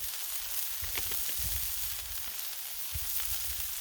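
Burgers and sausages sizzle on a Blackstone griddle, a loud continuous frying hiss close up with scattered soft pops and crackles from the sausages throughout.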